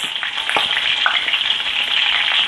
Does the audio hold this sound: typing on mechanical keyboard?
no